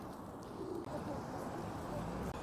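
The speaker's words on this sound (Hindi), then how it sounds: "ये हैं यहाँ के कबूतर जो डरते ही नहीं हैं लोगों से।" Pigeons coo beside benches near a Toronto subway station in the Church and Wellesley Village area, low soft calls under a constant wash of city noise and passing voices.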